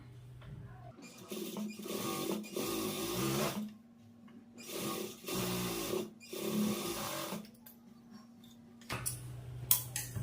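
A sewing machine top-stitching a blouse, running in several close bursts of rapid mechanical needle clatter separated by short pauses.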